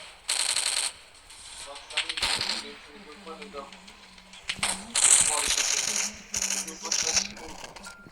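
Rapid bursts of gunfire from a shooting video game, loud and repeated in several volleys across the stretch, with a person's voice talking between and over the shots.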